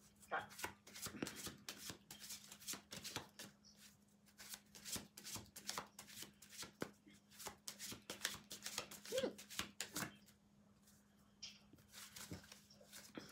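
Playing cards shuffled by hand during a card reading, a series of quiet, rapid riffling and tapping bursts in irregular clusters, with occasional soft gaps between them.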